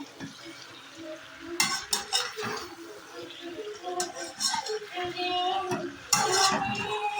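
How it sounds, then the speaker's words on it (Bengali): Fried cauliflower pieces being stirred with spices and potatoes in a pan, a spoon scraping and clinking against the metal in uneven bursts over a low sizzle, close and moderately loud. "তারপরে এখানে কপি ভাজাটাও দিয়ে দেবো দিয়ে আবার নেড়ে চেড়ে মিক্স করে দেব"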